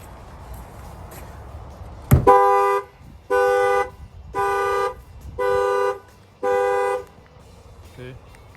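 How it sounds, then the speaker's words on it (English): A factory car alarm goes off with a sharp chirp, followed by five evenly spaced loud horn honks, each about a second long, close by. "the alarm will fire off"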